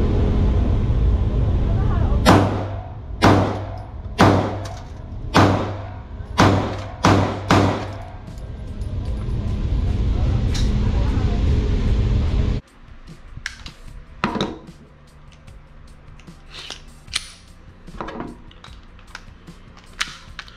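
A Ruger LC9S 9mm pistol fires a quick string of about seven sharp, loud reports over roughly six seconds, followed by a quieter stretch with a few faint clicks and handling knocks.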